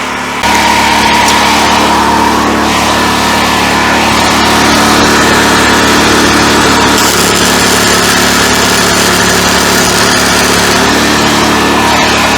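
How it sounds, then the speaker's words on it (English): Big portable generator running at a camper frame build site, a loud, close, steady engine drone that holds evenly throughout with no talking over it. "Alright, now we got the big generator running."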